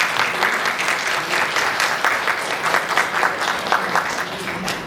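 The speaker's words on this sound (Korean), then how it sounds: "큰 박수 부탁드릴게요" An audience at a disability independent-living support information session in Pohang applauds. The clapping is close and continuous, with a lively, uneven patter and a few voices mixed in.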